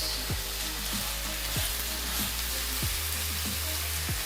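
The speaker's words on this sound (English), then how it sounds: "Add my tomatoes." Tomatoes hit a hot frying pan for sweet and savory meatballs, sending up a loud, continuous close sizzle with a few soft stirring knocks underneath.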